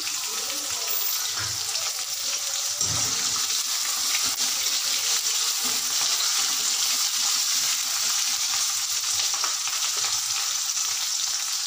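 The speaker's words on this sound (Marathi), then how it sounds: "आता आपल्याला ही हिरवी मिरची घालून घ्यायची।" Green chilies frying in a pan for sabudana khichdi, a constant close sizzle with a few soft stirring knocks near the start, continuing steadily with no talking.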